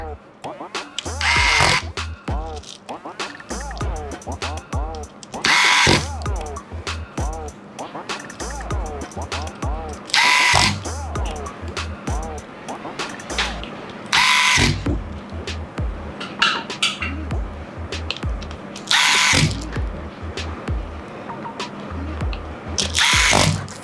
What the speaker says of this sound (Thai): เดี๋ยวเราใส่น็อตก่อนนะคะ